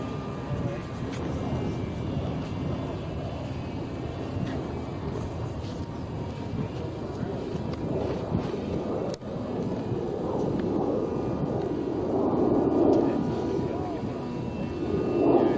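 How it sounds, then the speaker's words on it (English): F5B electric model airplane with a Speed 400 6-volt motor at full throttle over Mission Bay, a continuous droning motor hum blended with wind noise that swells slightly toward the end, with people talking nearby. "go ahead and give it full throttle now"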